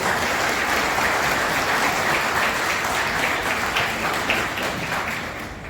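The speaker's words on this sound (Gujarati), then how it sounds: "તમામને આપણે સૌ તાળીઓના ગડગડાટથી વધાવી દઈએ" Steady, dense applause from a large audience at a community annual gathering and jubilee ceremony, continuous and loud throughout, tapering slightly near the end with no voices standing out.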